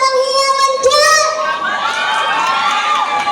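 A fiesta crowd at an outdoor mini concert, many of them children, shouts and cheers loudly in high, sustained whoops that swell and overlap, with a noisy wash of applause underneath.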